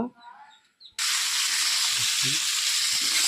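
Cauliflower drops into hot oil and a loud, steady sizzle takes over abruptly after a brief quiet moment of soft background sounds, then continues evenly with faint bubbling.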